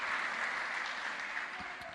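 Church congregation applauding during a sermon, a steady wash of many hands clapping at moderate level for the full two seconds with no voice on top.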